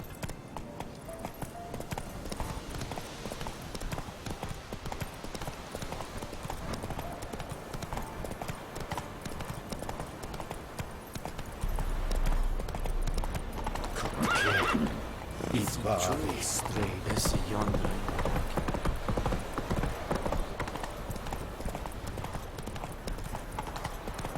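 A horse gallops in The Witcher 3 with rapid, rhythmic hoofbeats running steadily throughout, growing heavier and louder partway through, along with a few brief clinks and swishes of tack.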